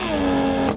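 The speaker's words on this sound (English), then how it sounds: "here's the actuator in action, basically. Pull in to lock the car, push out to unlock the car." A Mercedes S500 Coupe vacuum door lock actuator working on a bench gives a brief steady mechanical whir with a slight rising pitch, close and fairly loud, cutting off after under a second.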